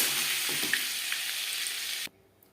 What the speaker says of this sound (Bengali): রিফাইন্ড অয়েলের সাথে বাটার বেশ ভালো করে মেল্ট করে নেওয়ার পরে